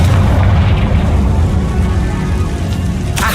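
A Confringo blasting spell goes off in a Harry Potter video game as a loud, deep boom with crackling debris, then a rumbling roar that lasts the whole moment.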